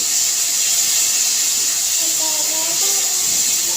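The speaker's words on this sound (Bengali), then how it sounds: "এখন আমি পেঁয়াজ দিয়ে দিলাম আগে পেঁয়াজ আর রসুন বাটা ভেজে নিব" Onion and garlic paste frying in a pan gives a steady, loud broadband hiss of oil and steam that runs throughout, with faint tonal sounds appearing briefly near the end.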